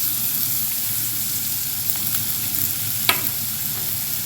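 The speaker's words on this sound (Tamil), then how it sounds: "பூண்டு சேர்த்து இப்படி கிண்டி விட்டுட்டே இருக்கணும்" Garlic and onions sauté on a tawa with a continuous close sizzle and hiss, broken by a few faint scrapes and one sharp clink of the stirring spoon. No voices.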